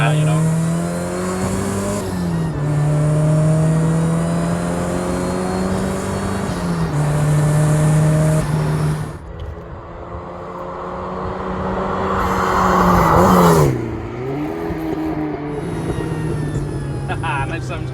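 A supercharged Mazda MX-5 Miata engine hums and revs through gear changes at steady, loud volume, rising and falling in pitch, with exhaust pops and people talking over the cabin noise.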